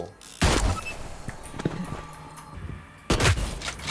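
Two heavy, booming shotgun blasts from the video game Hyper Scape, separated by a few seconds, with quieter clicks and mechanical clatter in between.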